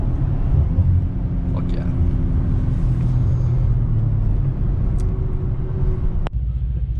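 Engines of a Mercedes-AMG C63S coupe and a new Audi RS5 rumble in a drag race as a loud, steady, close low roar that holds for several seconds.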